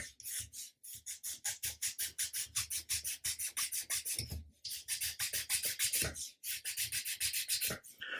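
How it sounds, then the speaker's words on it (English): Steady rhythmic rasping of a small file on wood, quick back-and-forth strokes repeating evenly with a couple of brief pauses, close and quiet, while shaping a part for a 1/80 scale model ship. "I'm going to use just a little file and"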